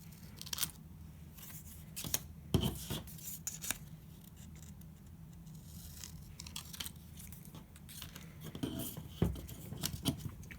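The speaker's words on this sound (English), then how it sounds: "With your scissors, go ahead and cut off that 1 inch square." Scissors snip through paper to cut off one-inch squares for a rainbow heart garland craft, giving several sharp, irregular close cuts and crunches over a low steady room hum, with no talking.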